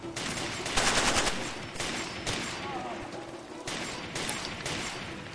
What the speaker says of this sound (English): I'm just hearing mortar shells everywhere